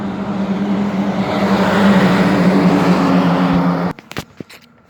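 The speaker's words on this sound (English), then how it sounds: "Eastbound in 2015 Peterbilt" A 2015 Peterbilt 387 truck passes eastbound, a loud sustained engine roar with a steady low drone that holds for about four seconds, then cuts off into scattered fainter noises.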